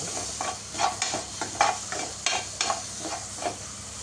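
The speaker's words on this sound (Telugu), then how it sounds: "ఇందులోకి ఉల్లిగడ్డ కొంచెం బ్రౌన్ కలర్ వచ్చే వరకు ఫ్రై చేసుకోవాలి" Onions fry in oil in a pan, a continuous sizzle punctuated by regular scraping stirs of the spatula, close and moderately loud, with no voices.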